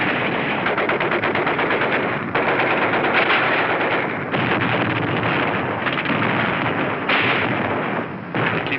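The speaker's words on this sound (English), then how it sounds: "A mortar barrage searches out hidden machine gun nests." Combat in the Battle of Iwo Jima, 1945: a mortar barrage with machine gun fire, a dense, continuous roar of rapid bursts and thuds, loud and unbroken, on a band-limited archival recording with no voices.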